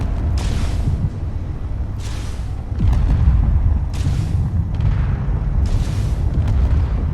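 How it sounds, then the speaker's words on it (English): Missiles firing and booming against a ship in Space Engineers, a dense rumbling barrage of repeated launches and blasts, loud and continuous with bursts of hiss roughly every two seconds. "I am firing a whole heck of a lot more missiles at it as before"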